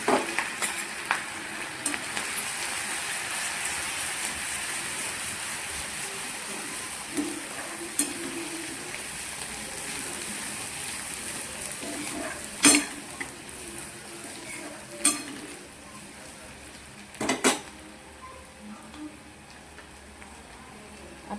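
Garlic, cumin and green chili paste frying in a pan while cooking a Marathi vegetable dish, a soft continuous sizzle with occasional sharp clinks of a spoon against the pan, no voices.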